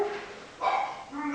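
Pet dogs at home barking in the background, a couple of short bursts mixed with a speaker's ongoing talk, moderately near.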